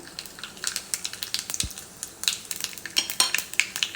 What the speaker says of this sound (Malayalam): ഇതിപ്പോൾ ചൂടായിട്ടുണ്ട് കടുക് ഇട്ട് പൊട്ടിക്കാം